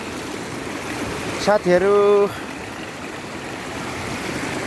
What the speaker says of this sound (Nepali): एकदम ठुलो पानी पसिरहेको रहेछ।